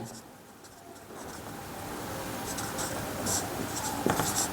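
Pen writing on paper during a Class 10 trigonometry maths lesson, steady scratchy strokes close up with a few brief scribbles, and a voice speaking faintly underneath.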